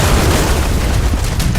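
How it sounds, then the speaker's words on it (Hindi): A car packed with explosives detonates against a bus in a military convoy, a loud, dense rumbling blast that fills the whole moment with deep booming noise. "आदिल ने विस्फोटक से भरी कार को काफिले के 5 नंबर बस से टकरा दिया।"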